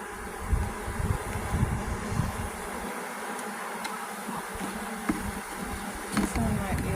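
Bees at a newly set-up beehive give a dense, continuous close-up buzzing and droning, steady in loudness, with a few faint knocks of handling the hive.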